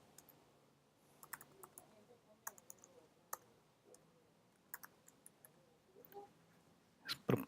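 Computer keyboard typing and mouse clicks while a username and password are entered to log into a web portal, quiet scattered taps and clicks at close range, ending in a louder clunk.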